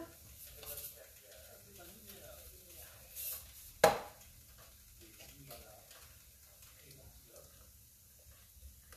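Chickpea curry cooking in an All-Clad pan gives a faint, steady sizzle, with one sharp utensil clack partway through and soft stirring scrapes around it, quiet and close.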